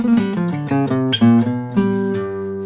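A bebop dominant scale played as a quick blues run of distinct plucked notes, a few seconds of solo melodic phrasing without talk.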